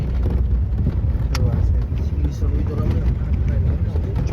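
A safari vehicle driving slowly through Gir National Park, its engine a steady low rumble running throughout, with people talking over it.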